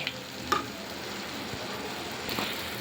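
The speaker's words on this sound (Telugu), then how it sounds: "మొత్తం మూత పెట్టుకుని దీన్ని బాగా ఫ్రై చేసుకుందాం" Gongura chicken curry frying under a lid in a covered pan, a steady soft sizzle with a couple of brief stirring clinks, close and alone without talk.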